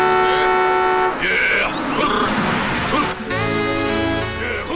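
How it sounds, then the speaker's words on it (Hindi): Vehicle horn honking at a flock of sheep on a road in a Sooryavansham comedy scene, sustained tooting blasts mixed with voices and film soundtrack. "इडियट्स, हॉर्न बजा रहे हो, सुनाई नहीं देता है क्या?"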